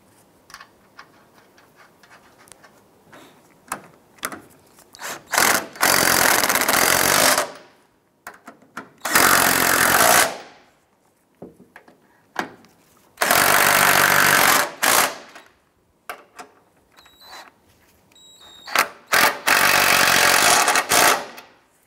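A power tool snugs down the strut mounting nuts on a 2001-2007 Ford Escape strut assembly, giving several loud, hammering bursts of one to two seconds each with brief quiet gaps between them, close up and with no talking.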